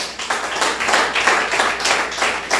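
Audience applause at a church discipleship training session, a steady wash of many hands clapping that swells and dips in bursts throughout, fairly loud and close, with no talking over it.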